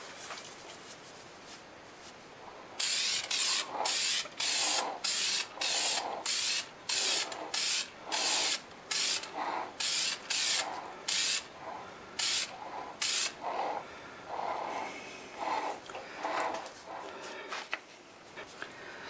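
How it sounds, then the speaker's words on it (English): Lacquer finish sprayed from an aerosol can onto a wood-turned segmented piece comes in about twenty close, loud hissing bursts, some short and some longer, separated by brief pauses, with no talking. "I got two dustings of the lacquer on it, and I think we're ready to go ahead and put a little heavier coat on it now."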